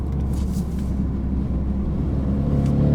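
Renault Megane RS RB8 project car engine droning loud and steady from inside the cabin, a dense low rumble that holds throughout with a slight rise near the end.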